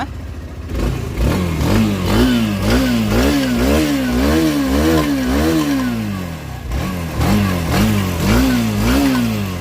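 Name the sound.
motorcycle engine running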